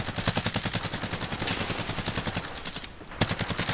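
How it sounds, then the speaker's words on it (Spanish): Rapid automatic gunfire in a video game, heard as a fast, even rattle of shots that runs almost without a break and stays fairly loud and close, with no voices. "allá en derecha, en el aeropuerto, están disparando"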